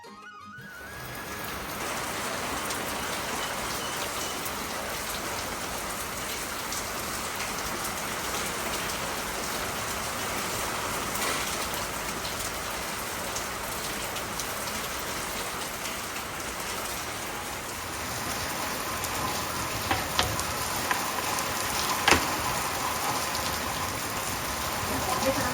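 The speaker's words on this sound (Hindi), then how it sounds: "और ये बारिश हुई है शाम के करीब" Heavy evening rain falling steadily on rooftops and surfaces, a dense continuous hiss of drops that holds loud for the whole stretch, with a few sharper spatters near the end.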